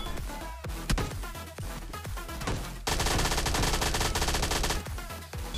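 MP5K submachine gun firing in PUBG Mobile Lite: a few sharp separate shots, then a dense, loud stretch of rapid continuous fire over steady game sound, with no talking.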